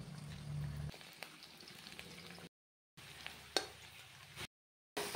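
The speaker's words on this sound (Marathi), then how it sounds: "आता हा कांदा आपण तेलात छानपैकी परतून घेत आहोत." Onion fries in oil with a steady close hiss and soft bubbling crackle, broken by two short silent gaps, and a low hum heard briefly at the start.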